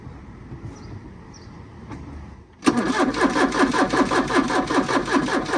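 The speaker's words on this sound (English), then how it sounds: "Try and start it." A Porsche 944 with weak battery voltage cranks after a quiet stretch, its starter churning in a loud, close, rhythmic pulsing that carries on steadily to the end.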